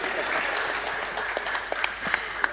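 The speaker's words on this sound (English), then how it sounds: "Clap for ChatGPT, please." Audience applause at a workplace talk on employee development, a dense, steady roar of many hands clapping with a few sharper individual claps standing out near the end.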